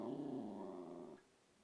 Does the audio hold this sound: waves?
no